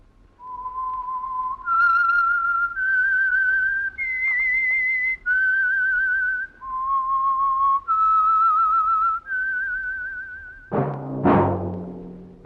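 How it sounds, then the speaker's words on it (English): A whistled theme melody for The Whistler radio program, sponsored by Signal Oil: a lone, clear whistle of sustained, gliding notes stepping up and down, followed by a short burst of orchestral music at the end. "That whistle is your signal for the Signal Oil Program, The Whistler."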